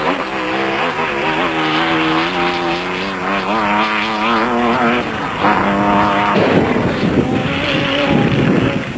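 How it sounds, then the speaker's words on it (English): A 2-litre Porsche Raceco off-road race car in Class B at the Roof of Africa rally, its crisp engine note holding loud and steady with rising and falling revs through gear changes, then a harsher surge near the end; no talk. "Heading the Class B field was the Chepex crisp-sounding 2-litre Porsche Raceco, while Schilling was not far behind"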